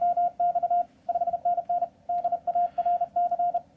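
Morse code CW signal from German amateur station DA0HQ, a strong steady tone keyed in quick dits and dahs in repeated groups over faint radio hiss.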